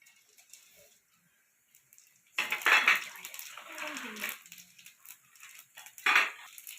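Cumin and pepper drop into hot oil in a kadai after a quiet moment, setting off a close burst of crackling and sputtering that settles into scattered pops, with a second sharp flare near the end.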